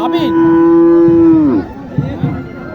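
A Sahiwal cow at a cattle market in Naogaon lets out one loud, close, sustained moo that bends downward at the end, followed by quieter snorts and shuffling.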